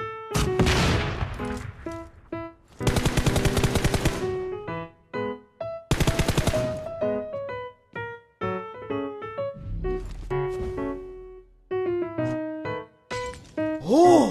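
Rapid bursts of video game gunfire fired from inside a hidden mine through a wall, several loud automatic volleys and single shots alternating with short gaps, close and dry.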